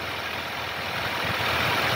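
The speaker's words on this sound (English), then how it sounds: "It's actually idling a little louder right now at a higher RPM because it's cold." A 2020 Ram Rebel EcoDiesel truck idles in cold weather at a raised RPM, giving a steady, continuous engine drone with a constant level and no talk.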